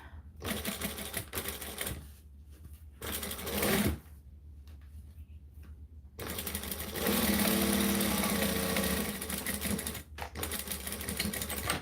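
A sewing machine stitches fabric edges in rapid, close mechanical runs, starting and stopping several times with short pauses between bursts.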